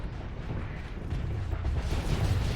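Rumbling explosions in a Starsector space battle between phase ships, a dense continuous roar of low booms and bursts that swells slightly louder toward the end, with no talk over it.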